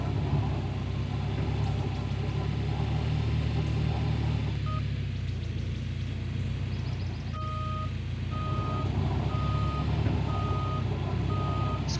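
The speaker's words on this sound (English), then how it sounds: "Look good when that rock truck's going up here." A rock truck in Gold Rush: The Game rumbles along with a low engine drone, then its reversing alarm starts beeping in an even, steady series of tones over the continuous motor noise.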